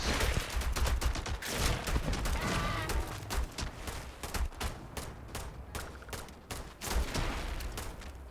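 Shotgun blasts in Starfield during a firefight, a long run of sharp, loud reports in quick irregular succession with brief gaps, some shots echoing over the background of combat.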